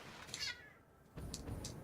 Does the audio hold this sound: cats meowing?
yes